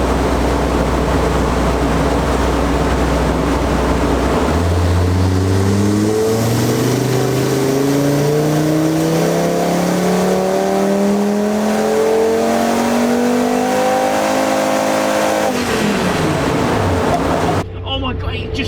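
Turbocharged Audi RS3 8P with a hybrid turbo upgrade on a dyno, revving hard in a long rising pull that climbs steadily in pitch before easing off, loud and close throughout.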